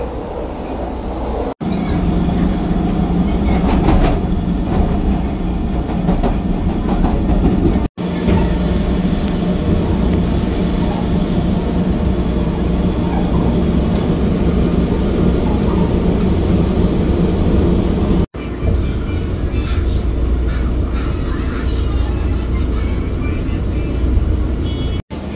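Riding aboard a Chicago 'L' metro train, a loud continuous rumble of wheels on rails with rattling car noise throughout, broken by a few abrupt cuts.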